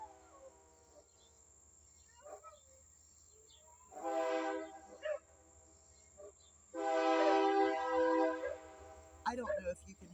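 A train passes at a distance, its horn sounding in two long blasts while a dog howls along from its dog box, fairly faint over a low rumble.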